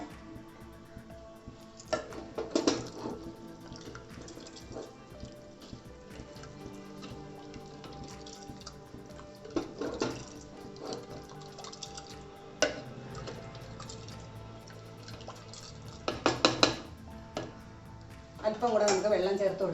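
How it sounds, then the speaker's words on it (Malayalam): Water is poured in a few short bursts into a pot of cooked mung beans for soup, giving quiet splashing and dripping against a faint kitchen background. "ഇതിലോട്ട് ഒരു 2 കപ്പ് വെള്ളം കൂടെ നമുക്ക് ചേർത്ത് കൊടുക്കാം."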